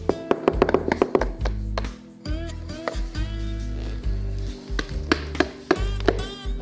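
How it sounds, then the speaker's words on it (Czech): Rapid, sharp knocks land in quick bursts amid a busy soundtrack, like knuckles rapping on a wooden door. "Někdo klepe."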